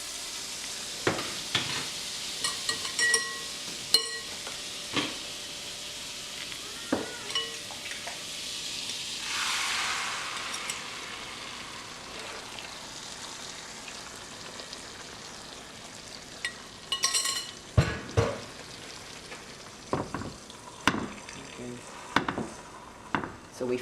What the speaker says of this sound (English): So we frying the egg.